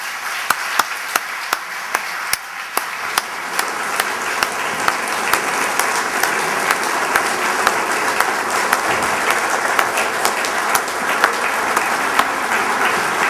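An audience welcomes keynote speaker John Bogle at the Rosemont College Ethics and Leadership Symposium with loud, sustained applause. Dense clapping fills the room throughout, with a few sharper claps standing out.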